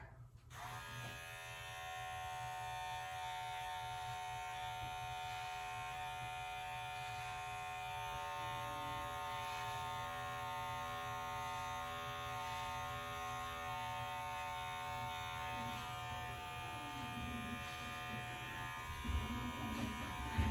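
Electric trimmer buzzing steadily and close while shaping a mustache, a continuous motorized hum with slight shifts in pitch and load as it moves over the hair, running alone for about twenty seconds.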